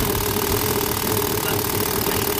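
A 1985 Ford Mustang engine, newly fitted with a fuel pressure regulator that is leaking, idles steadily and loudly up close with a constant rough mechanical chatter and no talk over it.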